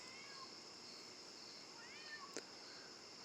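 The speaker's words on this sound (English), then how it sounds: "Do you hear this cat?" Cat meowing faintly, a few thin high calls in a quiet room over a soft steady background hum, with a brief click near the end.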